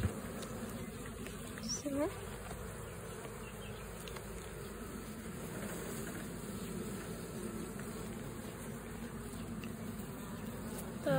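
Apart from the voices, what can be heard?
honeybees buzzing at a beehive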